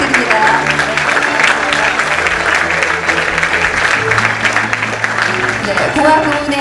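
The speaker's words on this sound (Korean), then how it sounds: "큰 박수 부탁드립니다." Sustained applause fills a Korean award ceremony hall as a pianist is honored in the arts category, a steady dense clapping from a large audience with crowd murmur, loud and continuous throughout.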